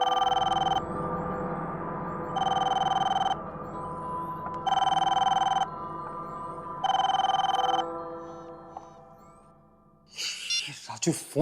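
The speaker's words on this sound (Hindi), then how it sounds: "राजू फोन क्यों नहीं उठा रहा है?" An unanswered telephone rings in four long, loud electronic bursts with even pauses, alone in a quiet room, followed by brief rustling and movement at the end.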